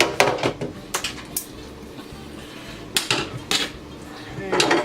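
Metal spoon clattering and scraping against a cooking pot while meatballs are stirred into sauce for Cajun spaghetti, a run of sharp close clinks in bursts with quiet gaps between.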